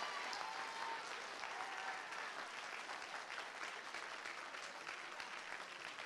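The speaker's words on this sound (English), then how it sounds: "clap like you mean it." A church congregation claps continuously, dense and even applause from many hands filling the whole stretch without pause.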